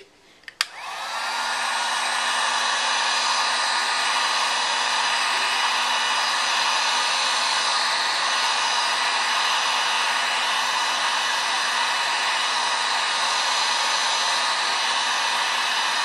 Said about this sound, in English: My heat gun. And I just start heating it from the edges out.